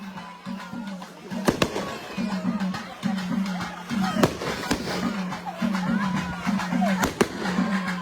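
Firecrackers burst in sharp, scattered cracks over several seconds, loud and close, above a steady rhythmic drumbeat and background crowd noise.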